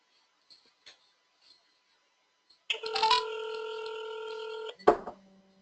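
A telephone keypad dials a number: a few faint tones and clicks, then a loud sustained dialing tone lasting about two seconds, followed by a sharp click and a lower buzzing tone, with no talking.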